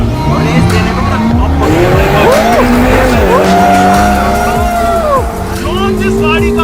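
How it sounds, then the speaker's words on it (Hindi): Convertible supercar engine revving hard in first gear on a test drive, a loud sustained roar with rising and falling pitch sweeps, close and continuous throughout. "भाई पहला गियर मैंने डाल दिया है और रेस देने को"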